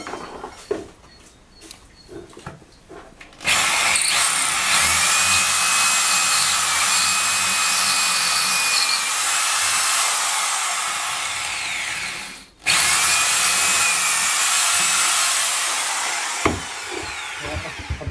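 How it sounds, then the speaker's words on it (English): A power drill whines loudly and steadily in two long runs drilling holes into a wall, briefly stopping in between, after some quiet handling noises. "now I'm going to drill the holes"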